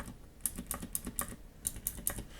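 Fingers type on a keyboard fitted with metal keycaps, giving a quick run of crisp, bright clacks with a brief pause midway. It is fairly quiet and close, and no one speaks.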